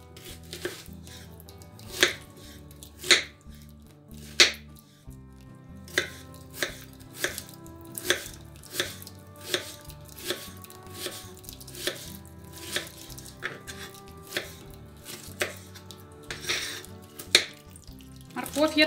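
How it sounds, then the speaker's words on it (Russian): A knife dices an onion on a cutting board, with quick, rhythmic cuts and brief pauses, close and fairly quiet. "Лук нарезаю кубиком."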